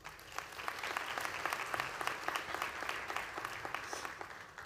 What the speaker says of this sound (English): Let us give our guests another round of applause.